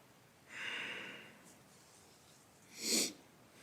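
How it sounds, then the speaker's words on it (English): A person with a cold sniffles twice in a chilly room: one soft, drawn-out sniff and then a sharper, slightly louder one, both faint and close in an otherwise quiet space. "I apologize for the sniffling, but it is rather chilly in here."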